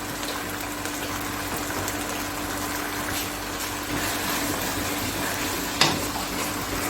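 Half a cup of water poured into a cooking pan of Chicken Manchurian, giving a steady rushing, sizzling hiss that lasts throughout without pause, with no voices.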